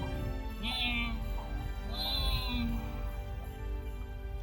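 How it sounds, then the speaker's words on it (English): A cat mews piteously, giving two drawn-out, plaintive meows close by over a steady background hum, with no voices. "And the cat answered with a piteous mewing."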